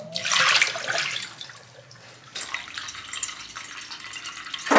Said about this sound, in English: I'm gonna clean his water bowl out and put some fresh water in